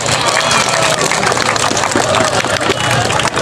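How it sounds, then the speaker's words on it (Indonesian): An audience applauds steadily at a parish event announcing tournament winners, a dense continuous clapping with some crowd noise throughout. "Sekali lagi mari kita berikan tepuk tangan untuk beliau."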